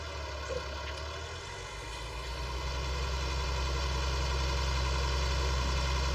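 A farm tractor engine drones steadily as it pulls a set of unfolded discs uphill across a field, a constant low rumble that builds slightly in loudness, heard alone without talk.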